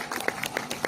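A congregation clapping hands at a church retreat at St. Mary's Church in Dubai: a quick run of rhythmic claps at moderate distance, fairly faint, with a voice faintly underneath.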